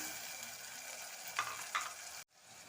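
Vegetables sizzle steadily in a pan while being cooked for a millet (varagu arisi) vegetable biryani, with two short scraping stirs of a spoon near the end before a brief cut.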